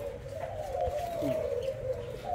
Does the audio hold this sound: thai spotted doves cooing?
yes